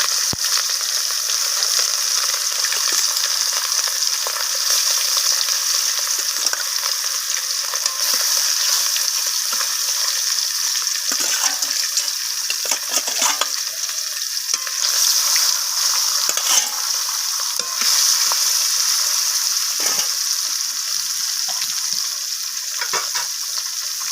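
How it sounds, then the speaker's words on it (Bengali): Rohu fish pieces fry in hot mustard oil, a steady bright sizzle close by with occasional louder crackles and stirring scrapes, no talking. "এখানে তেলটা গরম হয়ে গেছে এরপর আমি মাছগুলোকে তেলের মধ্যে দিয়ে দিচ্ছি"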